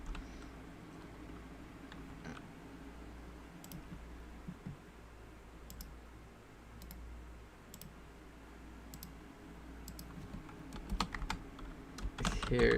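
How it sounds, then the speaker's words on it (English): Typing on a computer keyboard: quiet, scattered key clicks that grow busier and slightly louder toward the end, over a low room hum. "I'm, like, typing out loud."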